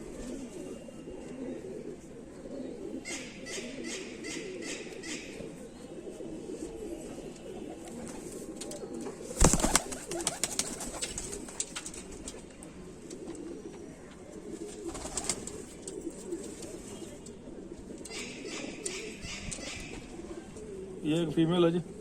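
Kamagar pigeons with ear-tuft plumage, including a female, coo softly and repeatedly at close range, with someone talking over much of it and a sharp knock partway through.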